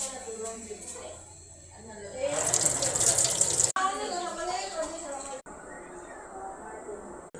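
Tap water gushes for about a second and a half while hands are washed, a steady splashing rush set among nearby talk.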